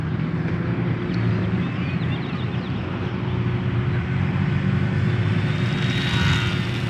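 Micro RC plane (QIDI-560) flying outdoors on a calm day, a steady, continuous electric motor drone that holds level for several seconds, moderately distant with light background hiss and no speech.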